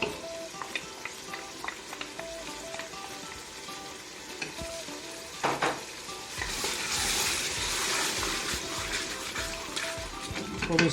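Tomato paste frying and being stirred in a pan for aloo palak, with a steady sizzle, scrapes and clinks of the spoon against the pan, and the sizzling swelling louder as it is stirred.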